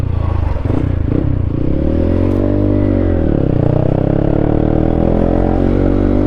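A Honda CB125 motorcycle riding along with a loud, throaty exhaust, its engine note rising and falling steadily and close up throughout, with no talk over it.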